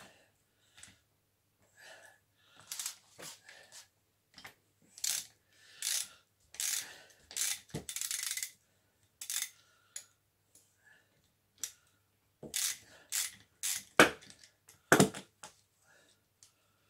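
A 13 mm ratchet wrench clicks and rattles in irregular bursts as a moped engine, a 103 SPA, is dismantled. The metallic clicks are close and sharp, with pauses and a few muttered words between them.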